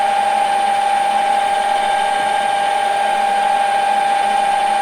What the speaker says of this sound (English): It takes about half an hour to drill such a hole.